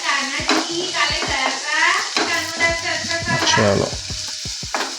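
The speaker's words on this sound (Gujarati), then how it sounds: "તો આપણે ડુંગળી નાખી દીધી છે પહેલાં ફટાફટ. એને ડુંગળીને પહેલાં થોડો ફ્રાય થવા દઈશું." Onions sizzle in hot oil for a quick Maggi noodle dish, with steady frying hiss, pan scrapes and stirring clicks, close and fairly loud, while someone speaks briefly over the cooking.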